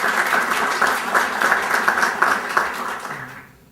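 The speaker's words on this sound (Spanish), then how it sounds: "Por favor, acompáñenme a recibirlo con un fuerte aplauso." A room full of people applauds to welcome a speaker at an arbitration book presentation, with dense, even clapping that holds steady and then tapers off at the end.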